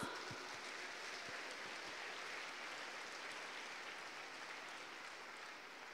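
A church congregation at a revival conference claps together in a sustained, even burst of applause, bright and dense, starting strong and fading slightly toward the end.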